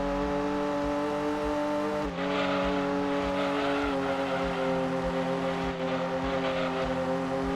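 Lotus GT1 race car engine in the PlayStation game Gran Turismo 2, a steady loud synthetic drone with stacked tones holding nearly constant pitch, dipping briefly twice as if shifting, with no talk.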